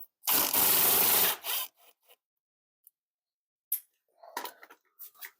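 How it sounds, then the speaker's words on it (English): A screw is backed out of a wooden crosscut sled, starting with a loud burst of driver whir, then faint scattered scrapes and light taps of wood and metal close by. "So I'm taking out the screw."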